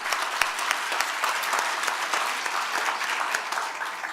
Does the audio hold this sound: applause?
yes